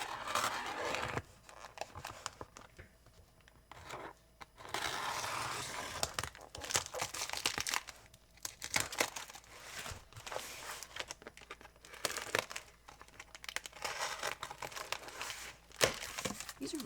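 Sharp scissors cut through cardboard wrapping on a mailed package in short bursts of snipping and crinkling, broken by quiet pauses, close to the microphone.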